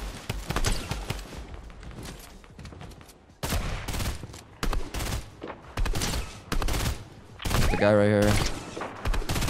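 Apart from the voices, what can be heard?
gunfire in the video game Fortnite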